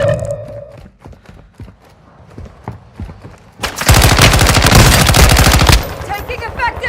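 Automatic weapon fire in the Warzone 2 video game, with scattered shots at first and then a sustained loud burst of rapid gunfire lasting about two seconds, close-sounding, with game voices nearby.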